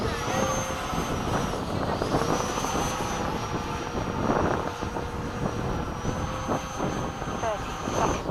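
A Freewing 90mm F-22 model jet flies during airshow practice at LFE, a steady whining electric ducted-fan drone with pitch sweeps as it passes, with voices talking over it.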